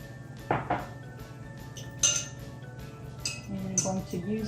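Utensils clinking against a bowl while half and half is stirred into eggs, with a few light scattered taps and chinks, close and moderately loud.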